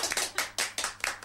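A few people at a dessert event clapping, a short run of about half a dozen distinct, fairly close hand claps in a loose uneven rhythm with no voices.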